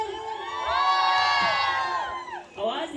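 A large outdoor crowd at a live stage event cheers, whoops and shouts together for about two seconds, with high voices rising above the roar before it fades into scattered calls.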